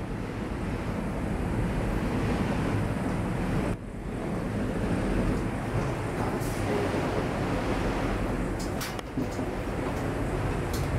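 Strong wind roars continuously at a high place in Hong Kong, a loud, broadband buffeting rush that batters the microphone with only brief dips in intensity.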